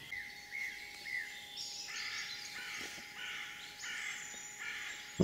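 Crows caw repeatedly in trees, harsh squawks arriving in uneven bursts over a quiet outdoor background, moderately distant and fairly faint.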